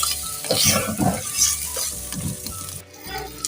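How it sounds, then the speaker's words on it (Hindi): Chicken browning with spices in a clay pot, a steady close sizzle broken by repeated scraping stirs and occasional utensil knocks against the pot, no one speaking. "अब ये सारे मसाले के साथ चिकन अच्छे तरीके से मैंने भूनना है"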